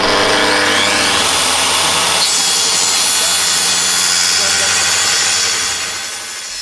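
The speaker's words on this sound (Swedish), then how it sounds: "Så full fart på sågen innan du kör på." A power saw revs at full throttle while a garage for an Automower robotic lawnmower is being built, a loud, steady roar lasting about six seconds before easing slightly at the end.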